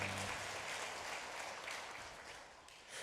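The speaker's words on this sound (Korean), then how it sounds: "하나님 앞에 영광의 박수 올려드립니다." A church congregation applauding during a Sunday worship service, a soft, blended wash of many hands clapping that sounds distant and faint, steady then tapering slightly, with no speech over it.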